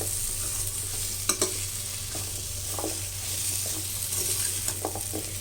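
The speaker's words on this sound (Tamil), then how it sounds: "இது நல்லா கொஞ்சம் நேரம் இப்படியே வதக்கிக்கலாம்." Drumstick (murungakkai) thokku gravy sautéed in a pan, a continuous loud sizzle with repeated spatula scrapes and clinks through the whole stretch, close up with no talking.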